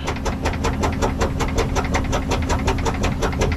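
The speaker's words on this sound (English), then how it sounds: "You hear it, it's slow because it's sucking all the oil, the rest of the oil in there, and then it'll get fast." An oil suction pump runs steadily on a CAT 777 haul truck during an oil change, a continuous close mechanical drone with a fast, even pulsing throb and no talk.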